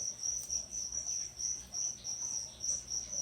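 Feeder crickets chirp steadily in a bright, rhythmic pulsing trill, about two pulses a second, close and clear over a faint background.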